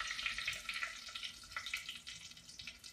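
Chicken fingers frying in hot oil, a soft continuous crackling sizzle with brief louder bubbling bursts, fairly quiet and close, with no talking.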